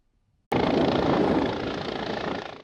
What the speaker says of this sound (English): It's not every day you see a helicopter landing on a middle school football field